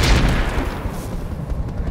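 Cannon fire booms in a pirate video game, one loud blast that rolls off into a fading rumble.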